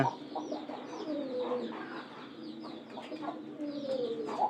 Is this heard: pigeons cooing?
yes